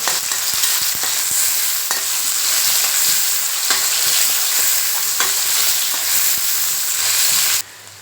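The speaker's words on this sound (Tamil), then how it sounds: "இப்போ தக்காளி நல்லா வதங்கட்டும்" Onion and tomato sizzle steadily in a hot frying pan for fish curry, with occasional scraping stirs of a spoon and a brief tap near the end.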